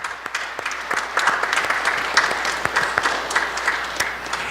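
A church congregation gives a steady round of applause, many hands clapping together in a dense, continuous wash of moderate loudness with no talk over it.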